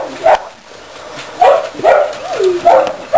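Puppies give several short barks and yips with a rising whimper between them, close and clear over a quiet background.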